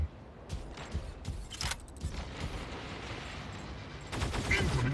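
Gunfire in the mech combat video game Mech Arena comes as rapid bursts of shots mixed with mechanical clanks and creaks, with a steady background of game noise that grows denser near the end.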